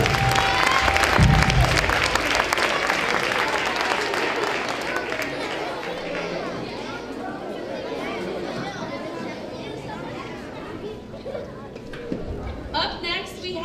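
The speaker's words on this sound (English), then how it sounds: "give them another round of applause." Applause from a school holiday concert audience, loud clapping at the start fading into crowd chatter and murmuring as it dies down.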